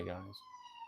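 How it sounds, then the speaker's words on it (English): A siren wails from outside, a steady high tone heard faintly under someone speaking close by. "Do apologise for the siren there"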